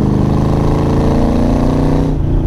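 A 302-horsepower AC Cobra Shelby 427 track car drives with a loud, continuous, deep engine rumble close by, holding steady revs before easing off near the end.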